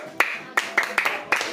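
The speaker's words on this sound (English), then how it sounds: "Clap for Peculiar." A classroom of students claps rhythmically for a classmate named Peculiar, about five sharp close claps spaced a fraction of a second apart, with a voice underneath.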